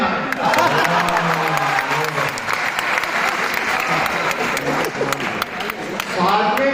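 A crowd at a Lucknow mushaira and kavi sammelan poetry recital claps in continuous, full applause, steady throughout, with a reciting voice rising at the start and again at the end.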